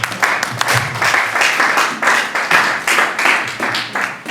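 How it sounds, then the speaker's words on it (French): A church congregation claps together in loud, irregular bursts for several seconds, many hands overlapping into rolling applause with rhythmic surges, no voices on top. "Est-ce que nous pouvons acclamer pour la gloire du Seigneur?"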